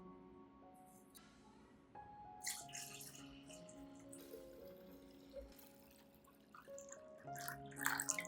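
Clean water runs and splashes into a container with a soft, steady trickle, rising to a louder gurgle near the end, with faint clinks around it.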